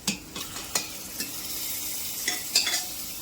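Raw, cleaned prawns stirred in a pressure cooker for prawn biryani, giving a few scraping stirs and light sizzling taps against the metal, close and fairly quiet, with no talking.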